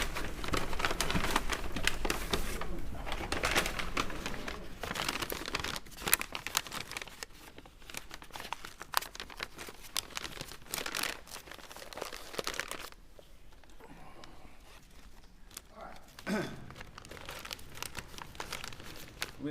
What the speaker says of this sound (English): And then put those back in the plastic bag for me.